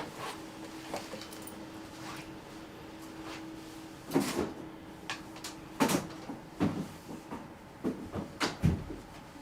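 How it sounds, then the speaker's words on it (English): Indoors, a door is pushed shut, bringing a run of knocks and clunks that start quiet and grow louder and more frequent. A faint steady hum runs underneath. "I'm gonna go shut my door."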